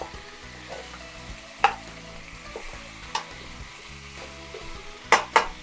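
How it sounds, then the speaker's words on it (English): Beef ribs browning in a hot wok, a soft steady sizzle with occasional sharp clanks and scrapes of stirring, close and alone. "so now that we brown our ribs"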